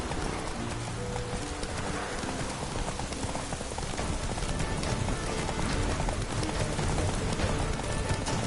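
A horse gallops with steady, rapid hoofbeats in The Witcher 3, loud and dense under game music and ambient sound throughout.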